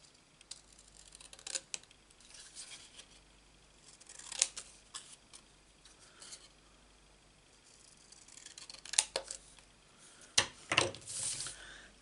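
Scissors snipping out a piece of cardstock for a Stampin' Up card, a few quiet bursts of close cuts spread through the clip with soft rustling between them and no talking.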